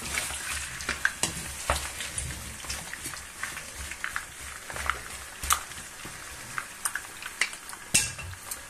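Potatoes fry in a pan on medium-high heat with a steady close sizzle, broken by irregular scrapes and clinks as they are stirred and moved about.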